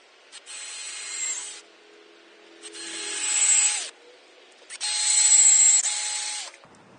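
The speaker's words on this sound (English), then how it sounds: "Now I'm turning the log so as I can drill my next one." A power drill bores into a log for shiitake mushroom plugs in three separate bursts, each whining loudly for about a second, with short quiet pauses between them.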